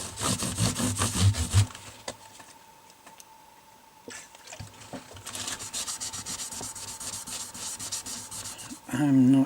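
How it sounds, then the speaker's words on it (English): Cloth rubbing lighter fluid over the fingerboard of a 1964 Vox Lynx guitar during a refret: bursts of close, scratchy rubbing strokes at the start, a quieter stretch, then steady rubbing and a louder scrape at the end. "Just using this kind of lighter fluid. And just give this a clean off."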